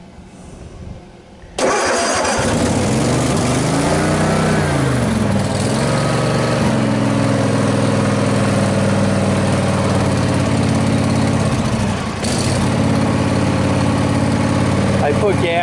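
A Cub Cadet RZT50 zero turn mower engine cold starts in spring after six months idle: a brief cranking, then the engine catches and runs loud and steady close by, with a slight dip partway through.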